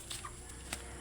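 A chicken clucks faintly a couple of times in a brief, quiet moment with no voices.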